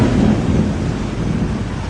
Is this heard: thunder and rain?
yes